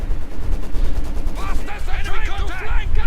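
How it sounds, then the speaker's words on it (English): Maxim machine gun firing in Company of Heroes 2, rapid bursts of loud game gunfire with ricochet-like whines and distant shots, heard under a commentator's speech. "Maxim in the house, firing away at the advancing fascists"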